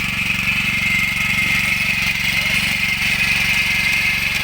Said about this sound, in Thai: นี่ครับเร่งเครื่องสูบไปเลยครับ